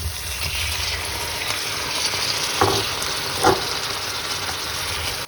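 Onions frying in a pan sizzle steadily at close range as tomatoes go in, with a couple of soft clatters from stirring over the continuous hiss; no one speaks.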